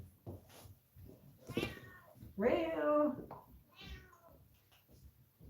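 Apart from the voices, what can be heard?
cats meowing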